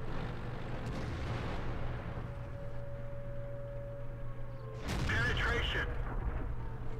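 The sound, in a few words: tank cannon firing in World of Tanks video game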